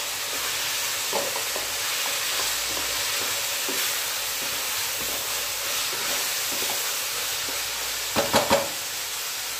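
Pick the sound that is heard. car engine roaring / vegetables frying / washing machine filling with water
vegetables frying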